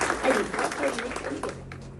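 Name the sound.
applause from audience at a speech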